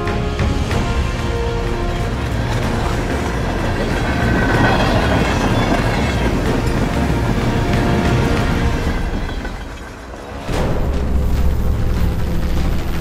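A runaway freight train rolls steadily along rails in a rural Pennsylvania setting within a Roblox game, a dense continuous rumble with clatter that dips briefly near the end before surging back loud.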